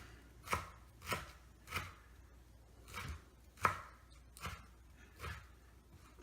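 Rolled basil leaves sliced with a knife on a cutting board: eight evenly spaced, close chopping thuds that arrive in a steady rhythm, each one crisp and fairly quiet.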